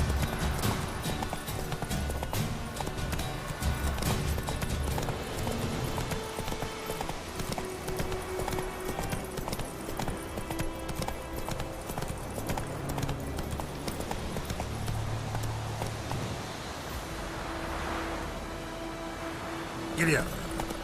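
A horse gallops in The Witcher 3 on PS4, rapid rhythmic hoofbeats clip-clopping steadily throughout over in-game sound, with a rider's voice calling out briefly.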